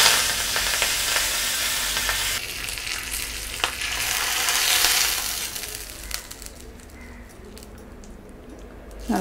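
Mustard seeds, curry leaves and asafoetida sizzle and crackle loudly in hot oil for a mint chutney tempering, with a dense spitting hiss that slowly fades as the pan cools after the heat is switched off.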